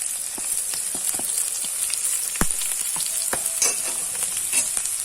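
Sliced onion and garlic fry in a pan for egg masala, a steady bright sizzle running throughout with scattered clinks and scrapes of stirring, close and alone with no talk.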